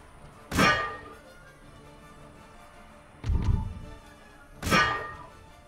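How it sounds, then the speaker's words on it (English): Explosive artillery shots fire in the game Empire Total War, three loud booming blasts spaced a couple of seconds apart, each a sharp burst that rolls off quickly, with no talk. "Let's go with some explosive shots then."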